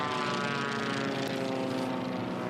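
A Formula One Gold class racing plane roars past at the Reno Air Races, a loud continuous propeller drone with steady harmonic tones that swells and holds close throughout, no voices present.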